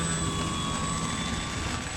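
Old PT-17 biplane engine drone heard from the cockpit, a loud steady roar with a constant hum and no pauses.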